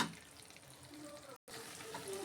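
Tomatoes and masala sizzle in a pan as they are stirred for a shing fish curry, a steady soft hiss of frying with a brief cut of silence midway.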